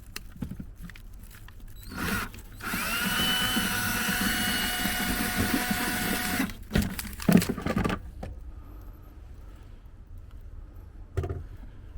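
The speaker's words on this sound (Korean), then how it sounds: "양쪽으로 해가지고 이렇게 또 확실하게 또 구멍을 뚫어줘야 되더라고요" A power drill boring holes into a side-mounted searchlight bracket at an unlit campsite, one loud sustained whine of several seconds followed by brief bursts and clicks, with no talking.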